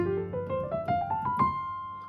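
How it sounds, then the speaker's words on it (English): A piano plays a rising major scale over two octaves with no sustain pedal, each note struck separately and clearly, quick and detached, at moderate volume. "without the pedal it sounds like this"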